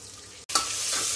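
Sliced onions sautéing in hot oil with garam masala in a pressure cooker, a steady close sizzle that cuts out briefly, then returns louder as they hit the pan and keep frying.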